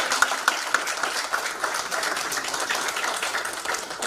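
An audience at the inauguration ceremony of the Kathmandu Dialogue applauds arriving delegates, a steady crowd clapping with a few sharper nearby claps standing out early on.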